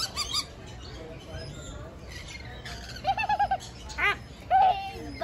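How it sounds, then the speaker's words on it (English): Lovebirds in an aviary at an aquarium let out several short, sharp squawks and chirps, louder toward the end, over a murmuring crowd. "Look at these lovebirds."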